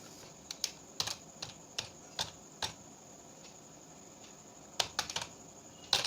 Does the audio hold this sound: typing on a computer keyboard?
yes